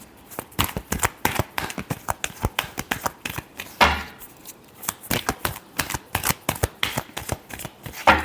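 Tarot cards are shuffled repeatedly in quick, crisp riffling bursts, close and distinct, with brief pauses between flurries and no speech.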